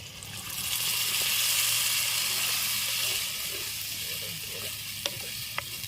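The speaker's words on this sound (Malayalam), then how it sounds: "പച്ചമുളക് ഇഞ്ചി വെളുത്തുള്ളി രമനുള്ളി എല്ലാം നല്ലതുപോലെ വഴറ്റി" Green chili, ginger, garlic and shallots sauté in a pan over traditional village-style heat, giving a loud, steady sizzle with stirring that eases slightly partway through, ending in a couple of sharp scrapes and no talking.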